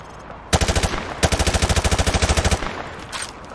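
Weapon fire on a Call of Duty: Modern Warfare 2 shooting range: a fast automatic burst, then a longer rapid string of close, loud shots, with one faint shot afterward.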